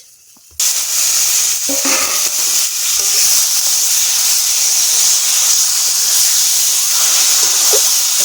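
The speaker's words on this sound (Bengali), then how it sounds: "তেল ছেড়ে দিয়েছে, দিয়ে দেব মাছ" Lote fish dropped into hot oil for a spicy fish curry bursts into a loud, steady sizzle that starts abruptly and hisses on without pause, close to the pan.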